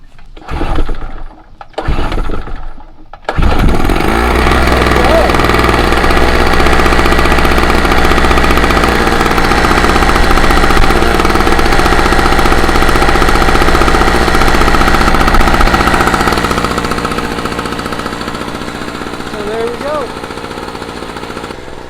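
After a few pull-cord tugs, a small portable generator engine sputters to life and settles into a loud, steady running drone, fading slightly near the end.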